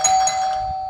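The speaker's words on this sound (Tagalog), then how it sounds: "Kiki Kuya, mag-doorbell ka pa ng isa pa." One electronic doorbell chime rings out clearly, a bright ding with a sustained tone that rings briefly and fades, heard close and alone.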